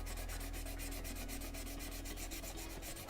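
Fine grit sandpaper lightly rubs across a helmet in quick, even strokes, producing a faint, steady rasping hiss.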